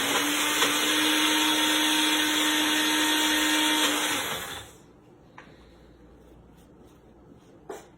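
A blender whirs loudly and steadily while blending chocolate avocado mousse with almond milk, then spins down and stops about halfway through, leaving a quiet room with a few faint knocks.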